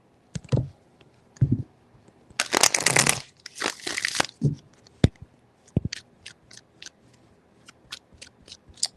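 Tarot cards being shuffled by hand in a quiet room, a few loose riffling bursts followed by scattered crisp taps and clicks as the deck is squared.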